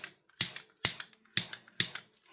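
Scissors cutting during a 3D floral nail art session, four sharp crisp snips evenly spaced about half a second apart, close and clear, with no talking.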